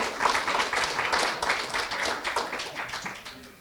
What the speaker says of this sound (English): Let's give yourselves a round of applause for your attendance.